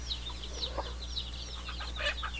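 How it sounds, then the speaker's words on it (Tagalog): Many chicks from upgraded heritage chickens peep in rapid, overlapping high chirps close by, over a steady low background hum. "So ang dami po nila mga sisiw."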